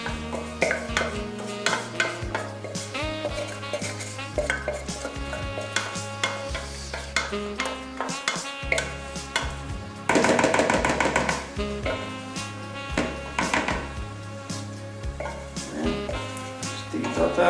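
A utensil stirs chocolate cake batter of sugar, eggs, butter and melted chocolate in a bowl, with repeated scraping and knocking strokes, close and fairly loud, partly under music.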